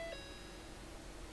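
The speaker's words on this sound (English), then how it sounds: "When you turn it on, it has a nice little chime." A Ford Flex Titanium sounds a short, soft electronic startup chime of a few clean tones at the very start, then only a steady cabin hum remains.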